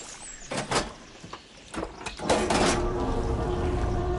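Water flow switching over in Horizon Forbidden West, with a few mechanical clunks and thuds followed by a sustained rushing wash of water that rises and holds, fairly close.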